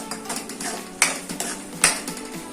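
Tomato masala for dhaba-style rajma being stirred in a pan, with a spoon scraping and clinking against the metal in an irregular rhythm and two sharper knocks, close and fairly loud with no talking.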